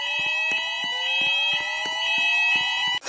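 Inside a shopping mall, a fire alarm sounds loud and close as a rapid, repeating electronic pulse with steady high tones and no voices over it.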